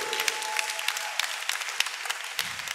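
An assembly at a religious service claps in a steady burst of applause, moderately close, with a faint voice briefly underneath.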